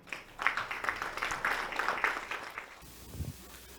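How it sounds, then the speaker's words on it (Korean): Audience applause at a business lecture hosted by the Gimpo Chamber of Commerce, steady dense clapping for nearly three seconds welcoming the tax office chief to the stage, then fading into quiet room noise. "큰 박수로 환영해 주시면 고맙겠습니다."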